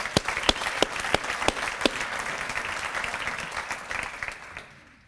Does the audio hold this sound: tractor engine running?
no